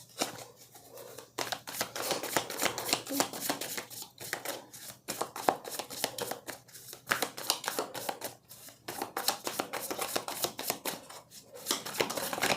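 Tarot cards handled and drawn one at a time, giving close, continuous papery rustling with frequent soft snaps and flicks throughout, and no talking.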